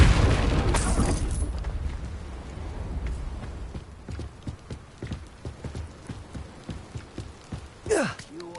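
A Confringo blasting spell in Hogwarts Legacy goes off as a loud, booming explosion in the opening second. It fades into a rumbling tail, then a run of rhythmic hoof-like clopping and a brief whooshing effect near the end.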